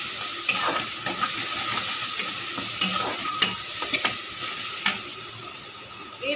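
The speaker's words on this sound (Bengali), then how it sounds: "ভালো করে মশলাটাকে ভেজে নেব।" Spice paste fries in a pan with sugar added, a steady sizzle broken by repeated scraping and clacking strokes of a stirring spoon, close and fairly loud.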